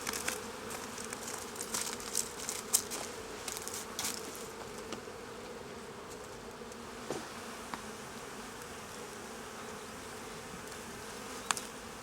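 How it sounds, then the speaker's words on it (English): Honey bees buzz steadily at a hive entrance as foragers return with pollen, a continuous close droning hum with occasional louder passes of individual bees near the listener. "We've got the bees coming in, bringing in all the pollen"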